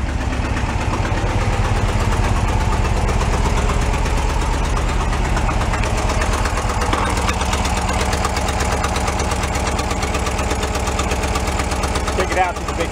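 An abandoned Porsche 914 station wagon engine idles after starting, a steady pulsing rumble with a faint knocking beat, close and continuous.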